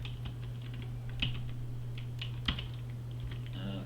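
Typing on a computer keyboard at a developer's desk: a quiet run of irregular key clicks with a couple of sharper, louder taps, over a constant low electrical hum, no talking.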